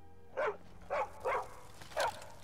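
A dog barks four times in Skyrim, each short, sharp bark sitting well above a quiet, low game ambience, with uneven gaps between them.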